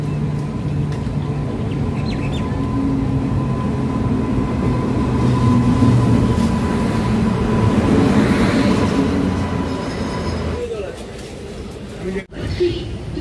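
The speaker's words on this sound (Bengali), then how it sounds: "এই ঢুকছে জঙ্গিপুর রোড এক্সপ্রেস।" Jangipur Road Express pulling into Dum Dum Junction station, a steady loud rumble of rolling wagons with a faint high whine, fading near the end, while someone talks over it.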